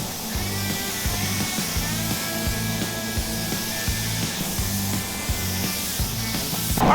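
Spray gun laying down a red base coat on a Jeep, a steady hissing airflow with a faint regular pulsing beneath it, continuous and close, swelling slightly at the end.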